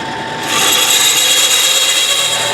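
Bandsaw blade cutting through wood, a sustained high whine that starts abruptly after a brief quiet moment and holds steady and loud to the end, with no voices.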